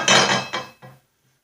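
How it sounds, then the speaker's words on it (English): A brand new drilled lawnmower blade for a walk-behind Snapper clanks and clinks metallically as it is handled, with a few quick knocks before falling silent. "This is a brand new blade for this machine."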